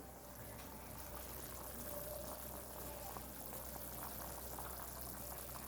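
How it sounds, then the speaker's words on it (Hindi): Buttermilk with water simmering on a home stove for kadhi, a steady low bubbling and hiss that carries on evenly throughout, with no talking. "ये कुछ मैं छाछ में पानी उबाल रही हूँ"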